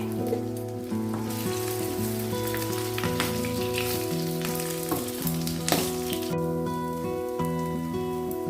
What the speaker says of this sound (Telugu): ఇవి క్రిస్పీగా వచ్చే వరకు లైట్గా ఫ్రై చేసుకోండి గోల్డెన్ బ్రౌన్ వచ్చే వరకు